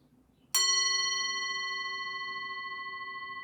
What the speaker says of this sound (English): rest for a moment until you hear the sound of the bell